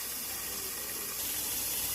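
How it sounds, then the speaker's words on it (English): Tap water runs steadily into a cooking pot being filled for boiling macaroni, a continuous close hiss and splash that grows a little fuller partway through, with no talking. "I'll add water to it."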